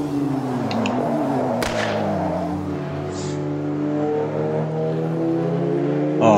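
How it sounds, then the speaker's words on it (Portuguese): A race car engine in the Automobilista 2 racing game, heard from outside the car, revs hard, its tone sweeping up and down in pitch through several throttle blips, loud and continuous with a sharp crack early on. "Por fora o barulho do carro tá sensacional"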